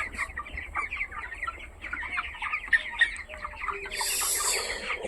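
Broiler chicken, 23 days old and about 1.3 kg, clucking while being weighed, soft repeated clucks and murmurs close by, with a rustling burst near the end.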